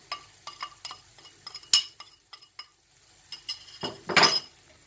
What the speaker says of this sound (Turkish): Hazırlamış olduğum zeytinyağlı karışımımı karıştırıyorum.